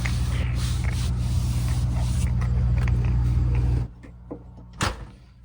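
A truck camper's engine idles with a steady low rumble that cuts off abruptly partway through, leaving near quiet broken by a few clicks and a sharp clunk.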